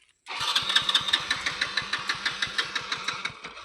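Motorbike engine cranks and catches, then idles roughly with an uneven, knocking beat, loud and close, struggling to hold revs with no talking over it.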